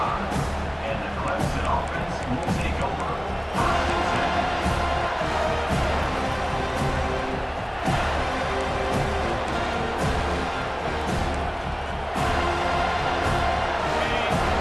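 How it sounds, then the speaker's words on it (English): A loud, dense stadium crowd roar at a Clemson vs Florida State football game fills a large open space, swelling and surging continuously with scattered shouts and cheers throughout. "this crowd is fired up. Listen to this noise here."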